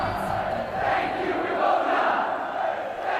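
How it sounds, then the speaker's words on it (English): An arena crowd in the WWE 2K26 wrestling video game roars and cheers in a steady, swelling wash of noise, heard on its own without talk. "You hear the crowd."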